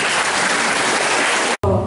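Audience at a school opening applauding, a dense, steady burst of clapping that cuts off abruptly near the end.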